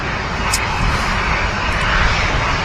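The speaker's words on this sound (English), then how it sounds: "that huge noise that you heard was the sound of a Virgin Atlantic A330 touching down here at Manchester Airport" A Virgin Atlantic A330 touches down at Manchester Airport with a loud, steady broadband engine roar that persists throughout, close and unbroken.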